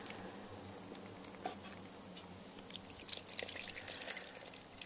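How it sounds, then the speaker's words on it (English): Beef consommé is poured into a pot with braising beef shank and whiskey, giving a faint liquid patter and dripping that grows a little busier toward the end. "We're going to add the beef consommé."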